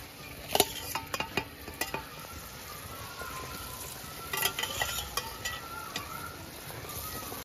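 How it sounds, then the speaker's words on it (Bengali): Fried large parshe fish go into salted, turmeric-spiced water boiling in a pan: a few sharp utensil clinks and scrapes over a soft, steady bubbling sizzle, with no talking. "দেখুন জল ফুটে উঠেছে, এবার আমি ভাজা মাছগুলো দিয়ে দিচ্ছি।"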